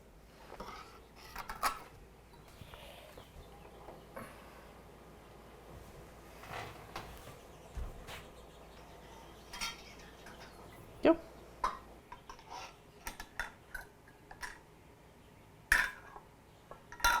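Glass canning jars filled with dandelion syrup are wiped around the rims and their metal lids handled, giving scattered light clinks, taps and scrapes, close but quiet, under ongoing talk.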